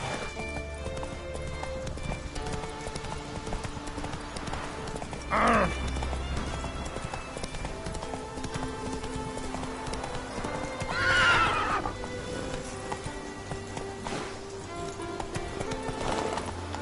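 Roach the horse in The Witcher 3 gallops with rapid, steady hoofbeats under game music, letting out two loud whinnies partway through and near the end.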